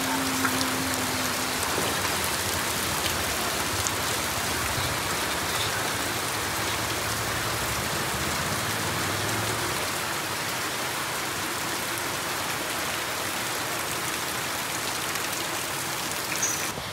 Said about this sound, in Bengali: এই দেখো বৃষ্টি শুরু হয়ে গেছে